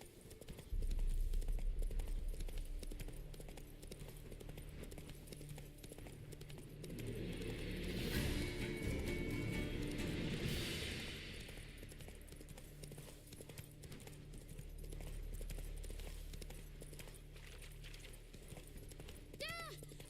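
Roach, the horse from The Witcher 3: Wild Hunt, clip-clops along in a steady rhythm of hoofbeats. The hooves stay close and clear for the whole stretch, and a voice and game ambience sit underneath.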